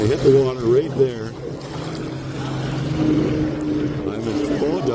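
Firefighting skimmer aircraft scooping water from a lake while fighting a wildfire near Peachland, a steady distant engine drone and water rush running under close talk throughout.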